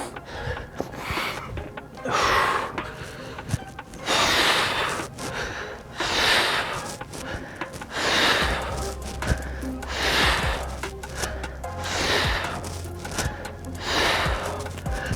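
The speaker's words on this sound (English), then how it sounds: "Notice my breathing." Heavy, rhythmic breathing during an alternating V-up workout, with loud sharp exhales and gasps repeating roughly every two seconds, close and strained, alone without talk.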